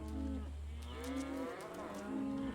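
A cow moos in long, low, droning calls, two drawn-out bellows close by over a steady low rumble of outdoor ambience.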